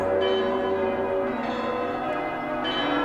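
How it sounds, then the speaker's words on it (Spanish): The giant nine-ton cathedral bell in Kraków rings among the city's bells, a loud, sustained resonant tolling that hums continuously throughout. "La gigantesca campana de 9 toneladas de la Catedral de Babel repica."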